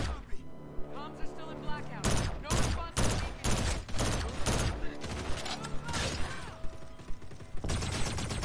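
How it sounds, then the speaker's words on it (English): Rapid gunfire in the Call of Duty Infinite Warfare video game crackles in dense bursts of sharp shots with mechanical clatter, while a player talks over the fighting. "Gun that actually knows how to shoot."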